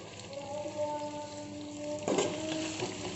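Bitter gourd stuffed with onion fries in oil over medium heat, a steady close sizzle and crackle throughout with a brief louder burst of spitting near the end and no talking.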